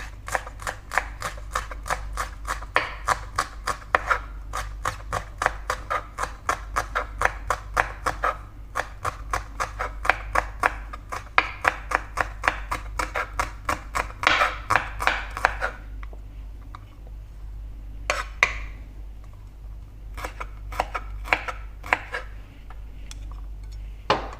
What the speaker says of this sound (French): Je vais ciseler un peu de oignon printemps.